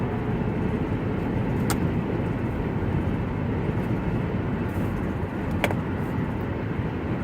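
A car drives along a road, with a steady rumbling road and engine drone that holds constant throughout and a couple of brief clicks inside the cabin.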